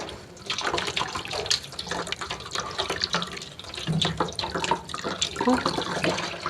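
Water drains off washed rice with a continuous close splashing trickle and small drips, with no talk over it.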